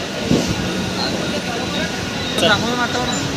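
Steady rumbling and rattling inside a moving Mumbai local train, with voices chatting over the noise and a brief squeal of wheels.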